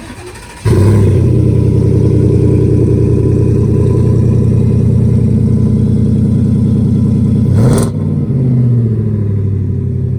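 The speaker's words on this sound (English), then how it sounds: "We do a performance exhaust system out the rear. Do you want to go ahead and fire that up?" A 2020 Ford F-150 with a performance cat-back exhaust starts abruptly and idles with a deep, rumbling exhaust, holding steady before a brief rev near the end.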